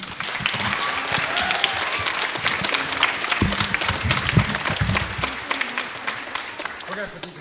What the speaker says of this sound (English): So would you give him a round of applause?